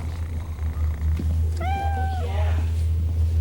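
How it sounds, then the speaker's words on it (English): A cat gives a single clear meow, drawn out and dropping in pitch, at night in an old prison over a steady low electrical hum, with faint voices nearby. "It's just a cat."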